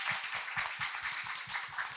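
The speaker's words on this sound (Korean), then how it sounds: "여러분의 박수와 함께 시작을 해보겠습니다." An audience claps in a quick, even rhythm to open a talk show counselling segment, individual hand claps distinct and regular over a couple of seconds, moderately near.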